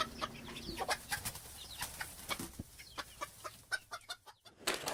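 Hens at a rural pilgrims' gîte cluck in a busy flock, with repeated short calls and squawks rising and falling close by, and no talking over them.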